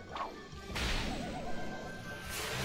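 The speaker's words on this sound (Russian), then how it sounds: "На, получи кнутом." A whip strike in a Looney Tunes video game, a sharp crack followed by a swishing, warbling game effect, quiet and brief, with a second whoosh near the end.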